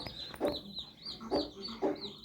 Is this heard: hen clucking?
yes